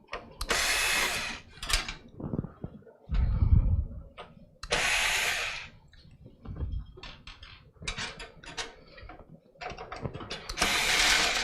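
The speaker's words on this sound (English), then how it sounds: "I take the bottom screws out first" A ratcheting screwdriver backs out motherboard screws inside an upright computer case. Close, clicking bursts come in several separate runs, mixed with handling noise and some faint speech.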